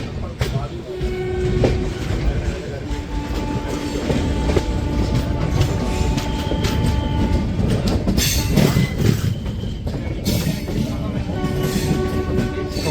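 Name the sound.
train arriving at platform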